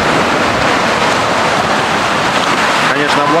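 Sea waves wash continuously onto the Crimean shore at Mezhvodnoye, a loud, steady broadband surf with wind buffeting the microphone and no clear voices.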